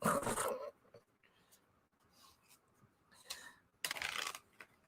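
Tarot cards are shuffled on a table, with brisk riffling bursts at the start and near the end and soft, sparse card sounds between them, close by in a quiet room with no talking.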